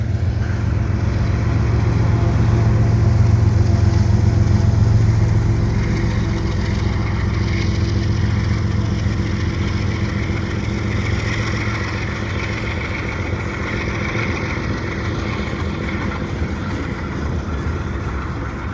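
A CN freight train with a distributed power unit locomotive passes at Dorval near Montreal on a cold, windless winter day, a loud steady diesel rumble with low throb and rolling rail noise that swells early and stays close throughout.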